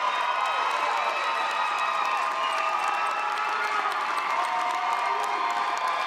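A lively audience cheers and applauds for Miss Teen USA contestants at the 2020 pageant, a dense, steady roar of shouts and clapping filling the hall without pause.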